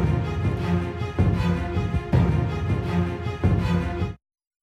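A looping game soundtrack segment plays steadily, with a repeating pulse that recurs about once a second and full, busy instrumentation, then stops abruptly near the end.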